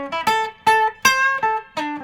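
A 1957 Gibson L-5CES archtop electric guitar on its Alnico 5 pickup, picked for a bright, Telecaster-like twang: five or six crisp plucked notes and double-stops, each with a sharp attack and short ringing decay, close and clear.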